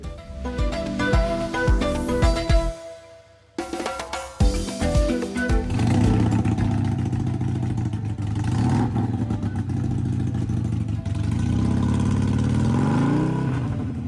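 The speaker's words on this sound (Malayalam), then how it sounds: "ഹാർലി ഡേവിഡ്സൺ ബൈക്കിൽ കയറി ഇരുന്ന് ആസ്വദിക്കുന്ന ഒരു സൗത്ത് ആഫ്രിക്കൻ യുവതിയാണിത്" A Harley-Davidson motorcycle engine roars close by on a trip near Pilanesberg, South Africa, rumbling and revving with rising pitch and holding a loud, steady growl after a brief drop.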